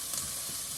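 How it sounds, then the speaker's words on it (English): Ground beef sizzles and fries in a hot skillet, a steady close hiss with no voices over it. "Add the ground beef to the skillet then"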